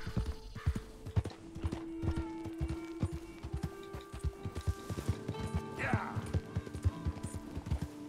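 A horse's hooves beat a quick, regular clip-clop in the video game Red Dead Redemption 2, close and rhythmic, with held musical tones and some faint game voices underneath.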